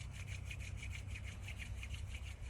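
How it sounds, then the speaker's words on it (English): Palms rubbing back and forth quickly in a steady rhythm of about a dozen brisk strokes, a soft, close swishing friction during a qi gong exercise, faint and without speech. "bring your hands together in prayer motion. And then we're going to rub them back and forth,"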